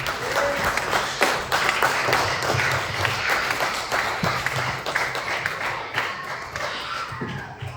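A church congregation at a dedication and thanksgiving service applauds steadily, a dense wash of clapping from a crowd filling the room, with a few louder thumps and faint voices mixed in.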